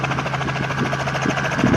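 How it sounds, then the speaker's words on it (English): A helicopter spins up in an open field, its steady turbine whine and rotor thrum holding loud and close throughout, with a low drone underneath and faint chopping pulses rising toward the end. "I think we're spooling up now."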